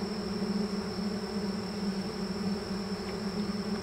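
Honeybees in an open horizontal hive make a close, continuous, steady buzz that stays at an even loudness throughout, with no one talking.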